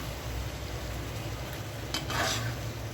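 Vegetables and spices stirred in a pan for a rohu fish and pointed gourd curry, a steady low scraping and sizzling bed with a brighter burst of utensil scraping near the end, no voices.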